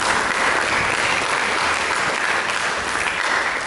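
A church congregation bursts into sustained applause, a thick, even roar of many hands clapping that continues steadily throughout without speech.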